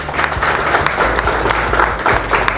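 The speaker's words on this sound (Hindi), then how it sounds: "के लिए भी जोरदार तालियाँ होनी चाहिए।" A workshop audience on intrapreneurship claps loudly and continuously, a dense, even wash of many hands close by for the whole stretch.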